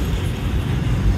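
A freight train rumbles past on the second track, a steady low roar with dense rail noise holding at a near-constant level throughout, with no voices over it.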